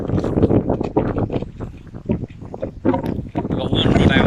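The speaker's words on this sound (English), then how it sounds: "we've got one rod out at the moment because the wind is just too strong." A strong southwest wind gusts across a beach, buffeting the microphone in loud, rough surges while a person talks over it.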